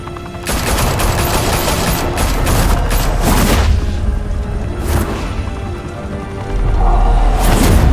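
Gunfire in Batman: The Telltale Series, a dense, loud volley of rapid shots with booming low-end bursts running throughout, layered like a sustained firefight, with no talk over it.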